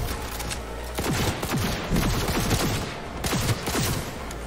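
Rapid bursts of gunfire in Cyberpunk 2077, a dense volley of sharp repeated shots with a continuous low rumble underneath, loud and close throughout.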